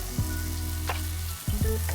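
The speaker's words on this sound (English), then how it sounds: "we're gonna give this about 2-3 minutes to cook and saute down a little bit more" Maque choux corn mixture sautéing in a pan, a steady sizzle with a couple of sharp stirring scrapes, close and fairly loud with no talk.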